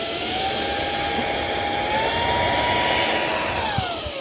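A 2-in-1 air vacuum gadget blowing air gives a steady, loud, high-pitched whine with a rushing hiss, running continuously and close up with no talk over it.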